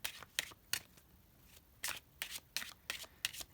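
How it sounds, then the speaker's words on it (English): Tarot cards being shuffled in quick riffling bursts, crisp and close, with short pauses between each pass. "You guys can feel free to fast forward through the shuffling if you'd like."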